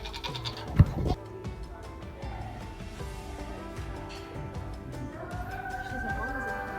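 Sheep and goats bleat in a busy, echoing livestock sale barn, with one loud cry near the start and quieter calls over a steady background din.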